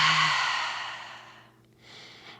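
A single long, close exhale of breath during a lower-body mobility stretch, a breathy rush that fades over about a second and a half, followed by a softer second breath.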